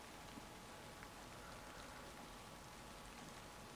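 Steady rain falls throughout, a dense even hiss of drops on surfaces with no breaks or voices, used as background in a Japanese ghost story reading.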